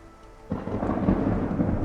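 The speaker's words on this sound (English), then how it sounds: "there's a lightning storm coming in." Thunder rumbles in with rain during a lightning storm rolling in as a cruise ship leaves Osaka; a quiet lead-in gives way at about half a second to a loud, sustained, broad rumble and wash of rain lasting to the end.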